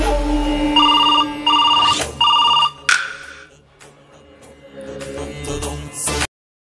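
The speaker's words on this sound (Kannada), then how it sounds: "ಲೇ ಕರಿಯ, ಅವಾಗ ಫೋನ್ ಹಚ್ಚಲೇ" Phone rings on an outgoing call: three short electronic ring bursts play over background music, followed by a thud and a stretch of quieter room sound.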